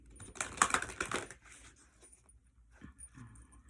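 A quick burst of crisp riffling and slapping of tarot cards being shuffled, loud for about a second, followed by softer scattered shuffling and handling sounds.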